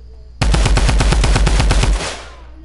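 Rapid automatic gunfire from a PS4 shooter video game, one loud, close burst of evenly spaced shots lasting about a second and a half, then a short fading tail.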